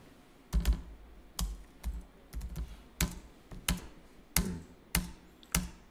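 Typing on a computer keyboard while entering data in accounting software, roughly a dozen separate clicks and short bursts of key taps with uneven spacing, close and clear, no talking.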